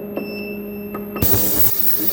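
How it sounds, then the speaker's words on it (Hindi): An ultrasonic sonicator bath sonicating a prepared solution for an acid-base titration: a thin high whine gives way after about a second to a steady, loud broadband hiss that continues to the end. "ऐसी आवाज़ करता है जो अल्ट्रासोनिक वेव्स होती है वो चलती है। तो अब ये सोनिकेशन हो रहा है इसका।"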